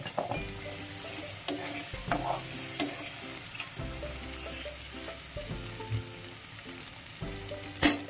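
Egg bhurji fries in a pan with a steady sizzle, broken by regular spatula stirs and scraping taps against the metal, close up with no talking.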